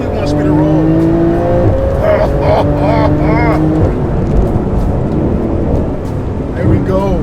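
A Porsche GT2 RS engine revs hard as it accelerates on a race track, loud and close, with rising and shifting engine tones throughout and a voice speaking over it.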